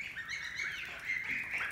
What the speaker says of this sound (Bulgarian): Имаме 11 големи патета